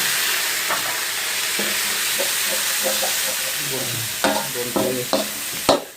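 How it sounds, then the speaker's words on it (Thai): Garlic and wild boar pork stir-fry in a hot pan for a spicy herbal dish, a steady loud sizzle with repeated scraping clinks of a spatula, growing sharper near the end. "คั่วกระเทียมแล้วคั่วหมูลงไปเลยนะครับ คั่วให้กรอบแป๊บนึ"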